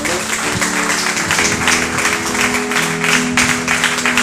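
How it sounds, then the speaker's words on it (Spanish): Church congregation applauding during worship, dense continuous clapping mixed with sustained musical tones, loud and steady throughout. "Debemos darle un aplauso"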